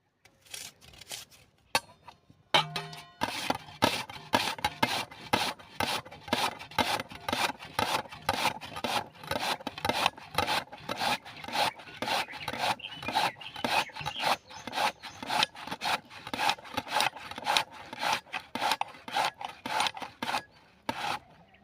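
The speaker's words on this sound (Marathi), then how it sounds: "इथे आपण दोन बटाटे घेतलेले आहेत आणि साल काढून घेतलेली आहे या किसणीच्या साह्याने आपण किसून घेऊया" Peeled raw potatoes scraped against a hand grater in a kitchen, a fast, steady rasping rhythm of close, loud strokes continuing without pause for about twenty seconds after a few brief knocks.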